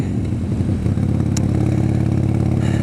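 A Sportster 72 motorcycle engine runs steadily while riding in the morning, a loud, close, continuous rumble with a throbbing low pulse and wind noise, no talking.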